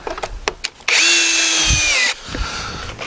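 A power drill drives a screw into a wooden live edge picnic table, one loud steady whir lasting about a second, preceded and followed by lighter knocks and handling noise.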